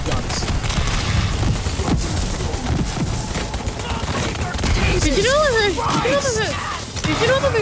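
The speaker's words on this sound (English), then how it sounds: "Those are a lot of mounted guns." Mounted guns in Borderlands 3 keep up dense, continuous rapid fire, with loud overlapping bursts and booms layered with other game noise and some voice-like tones.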